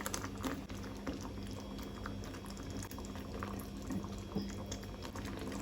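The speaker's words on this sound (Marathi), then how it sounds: "आतां तातूंत आमकां लेपो घालून घेवपाक जाय" Sole fish slide one by one into a simmering Goan ambot tik curry, which bubbles steadily throughout with small scattered plops and clicks close by.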